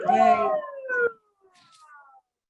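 A siren on a New York street, heard right after a short spoken exclamation; its wailing tone sweeps steadily downward at moderate distance, then fades out near the end.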